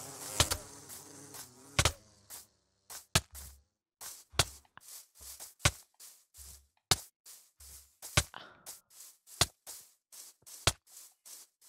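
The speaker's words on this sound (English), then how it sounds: "Oh my god, that's a bee." Bees buzz in the video game Minecraft, short repeated buzzy bursts at a regular pulse, close and fairly faint, with no talking over them.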